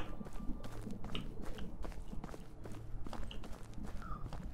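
A character walks through snow in the medieval survival game Medieval Dynasty, soft crunching footsteps repeating at an even walking pace, quiet and close, with no talking over them.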